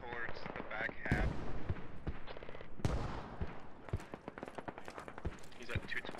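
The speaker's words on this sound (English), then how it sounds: "Mortars are coming back." Mortar rounds and gunfire boom in a tactical military shooter battle in Squad, with repeated sharp blasts scattered through the clip, some close and loud, under constant voice chat from players.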